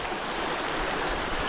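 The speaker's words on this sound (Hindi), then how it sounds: "कम से कम ये पानी की आवाज़ से सुकून तो मिलेगा" A hidden waterfall stream in Harnoi, Abbottabad rushes steadily, a loud, even broadband roar of flowing water with no pauses and no voices.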